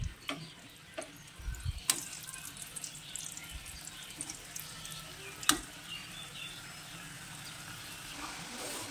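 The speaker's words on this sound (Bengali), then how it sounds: "এবার আমি ফ্রেঞ্চ ফ্রাইগুলো আবারও ভেজে নেব" French fries frying in oil give a soft, steady sizzle, close but fairly quiet, with a few sharp clinks and knocks from the pan or utensils.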